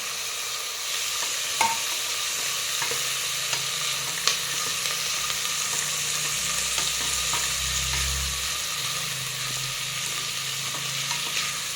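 Chopped onion and tomato sizzle steadily in a hot pan while a spoon scrapes and stirs now and then, a continuous close frying hiss with occasional clinks.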